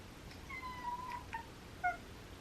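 A cat meows indoors, a few short, clear mews with a longer drawn-out one first, faint and close with no talking.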